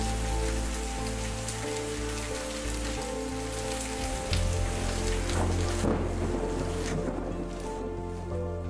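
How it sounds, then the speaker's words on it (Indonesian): Rain pours into a roof gutter and vertical drainage pipe, a steady loud hiss of falling water with a dense, even patter throughout. "seperti ini kalau sedang turun hujan"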